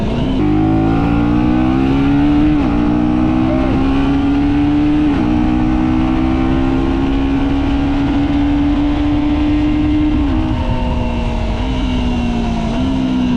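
A KTM Duke 125 motorcycle from 2025 with a quickshifter accelerating hard, its loud, close engine note rising steadily through the gears with brief dips at each quick upshift, sustained throughout with no talk.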